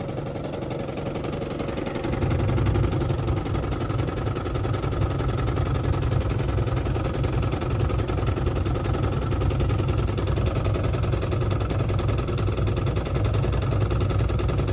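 A Gilera DNA scooter engine idles nearby with a steady, rumbling putter, which steps up louder and fuller after a couple of seconds and then holds an even, continuous idle throughout.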